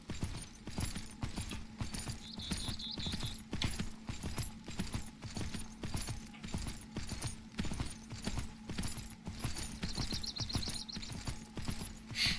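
Horse hooves clip-clop steadily and evenly while riding in the video game Myth of Empires, a loud rhythmic patter running through the whole stretch, with brief jingling tack sounds now and then and no talk.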